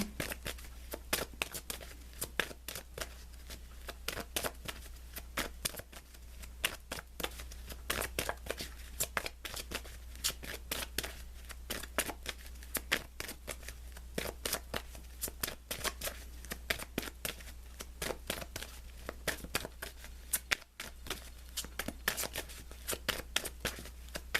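Tarot-style guidance cards are shuffled continuously for a monthly reading, with dense rapid riffling and snapping close up alongside a steady low hum, and no one speaks.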